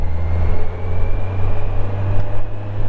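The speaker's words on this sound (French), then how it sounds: "Ici c'est un bruit vraiment de 4 cylindres, très discret, mais il en faut pas beaucoup sur la poignée d'accélérateur pour avoir une note bien grave" A Kawasaki Z900 four-cylinder motorcycle engine hums low and deep, loud and close, with a steady throaty drone that swells slightly as the throttle is blipped.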